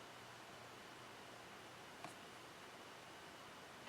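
A large desktop computer gives off a faint, steady broadband hiss that continues evenly throughout, broken only by a tiny click midway and a soft bump at the end.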